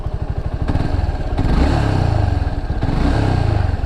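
A Suzuki Gixxer motorcycle engine starts and settles into a loud, steady close-up idle with a rhythmic mechanical clatter, and there is no talking.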